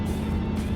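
Chevrolet Corvette L36 convertible fitted with redline radial tyres, cruising steadily down a road, its engine and road rumble a continuous, even drone from start to finish.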